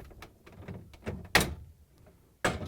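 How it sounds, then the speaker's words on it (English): An LG/Kenmore refrigerator freezer door is lifted off its rails, giving scattered close plastic and metal clunks, rattles and two sharp sliding thuds, with no talk. "I'm going to lift off the freezer door"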